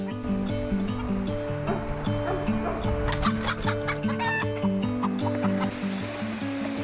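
Backyard chickens and a rooster cluck and murmur nearby in overlapping, rhythmic bursts, with occasional sharper squawks over a steady background wash.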